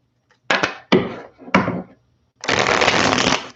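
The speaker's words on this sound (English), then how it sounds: "Give these cards a big shuffle." Tarot cards shuffled by hand for a reading, three short riffled bursts followed by a longer continuous shuffle, close and crisp in a quiet room.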